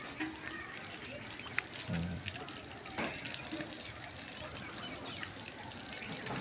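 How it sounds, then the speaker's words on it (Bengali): Water is poured onto a cabbage patch in a vegetable garden, a faint, steady running gush with a few small knocks, while a person talks over it. "এই দেখুন পানি দিতেছে, পানি"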